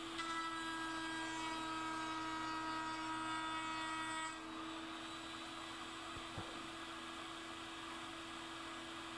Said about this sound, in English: He's going to watch me cut the mating dovetail here on the router table.